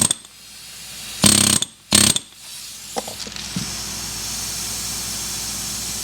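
An air chisel tests on the intake side of an M117 engine's valve guides, firing two loud close bursts, followed by clanks and a steady hiss of air.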